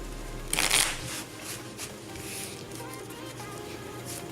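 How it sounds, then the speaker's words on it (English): Yu-Gi-Oh! trading cards are shuffled by hand in a short riffling burst, followed by quieter card handling over a faint room hum. "Shuffle this up one more time."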